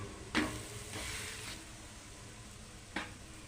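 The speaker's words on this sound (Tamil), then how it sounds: "சுற்றி எண்ணெய் ஊற்றிக்கலாம் நல்ல எண்ணெய் ஊற்றிக்கிறேன்" Ragi adai with drumstick leaves frying in oil on a pan, a soft steady sizzle with a few brief scrapes of a spatula turning it.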